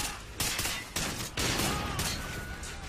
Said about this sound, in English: I actually shot this guy too.